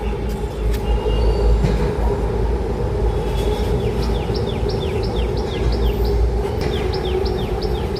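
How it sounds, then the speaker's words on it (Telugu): A train rumbles past close by with a steady heavy roar, wheels squealing faintly, while birds chirp in repeated calls over it. "మళ్ళీ వచ్చింది ట్రైన్ చూపిస్తాను మీకు ఇంకో ట్రైన్ ఇది"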